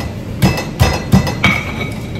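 Garlic and onion pounded in a stone mortar for Soto Padang spices, four distinct knocking, clinking strikes at an even rhythm, close and clear.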